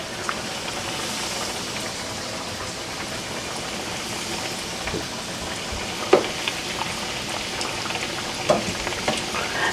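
Chicken nuggets frying in a pan of oil, a continuous fine crackling sizzle with scattered louder pops toward the end, close and steady.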